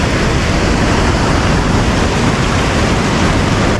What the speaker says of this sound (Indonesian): Wih, ombaknya lumayan cukup besar teman-teman.